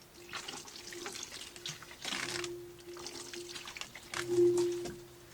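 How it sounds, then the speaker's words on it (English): Water poured from a can onto honeysuckle cuttings, a soft continuous splashing and trickling with a faint tonal ring, close and gentle. "I'm going to give them a bit of a water"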